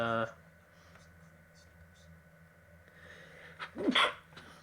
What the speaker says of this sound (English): That was a dry sneeze as well.